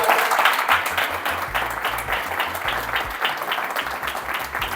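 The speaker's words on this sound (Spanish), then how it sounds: "un aplauso por acá" An audience applauds steadily at a grow-room feeding training event, dense clapping holding for the whole stretch with low rumble underneath and no talk over it.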